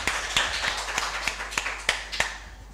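Applause for a contestant at a UCMAS mental arithmetic competition: a sparse run of about nine distinct claps at a steady, fairly quick pace, clear and close, with no voices.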